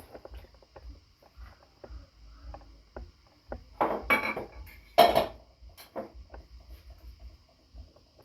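Sugar and eggs going into black forest cake batter, heard as irregular clinks and taps of a utensil against a bowl, with two louder clattering knocks in the middle and soft scraping in between.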